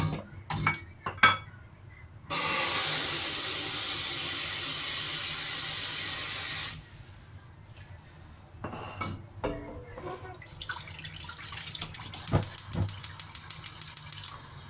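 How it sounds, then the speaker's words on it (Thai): A steady, loud hiss of boiling water for blanching oysters runs for several seconds, framed by clinks and clatter of pots and utensils, ending in rapid rhythmic tapping. "ใส่น้ำไปนิดหน่อยเราจะมาลวกก่อน ลวกประมาณน้ำเดือด"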